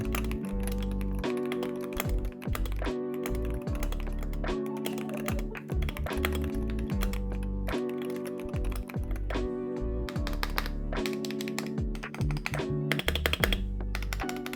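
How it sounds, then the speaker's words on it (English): Typing on a stock Wooting 60HE keyboard, a fast, continuous run of crisp keystrokes with occasional heavier thocks and brief pauses, close and clear with no talk. "let me start by giving you a sound test of what the board sounds like in stock configuration"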